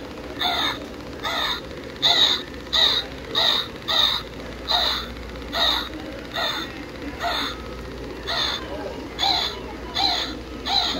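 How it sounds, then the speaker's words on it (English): A Halloween decoration crow or raven on a store shelf gives a rapid series of loud, electronic caws, about a dozen evenly spaced bursts over a low background hum. "Then we have Mr. Crow, or Raven."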